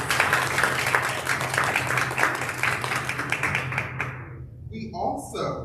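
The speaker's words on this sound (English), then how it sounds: "Can we give them a round of applause?" An audience at a school board meeting gives a round of applause for a one-act play's cast and crew, steady clapping for about four seconds that stops abruptly before a speaker resumes.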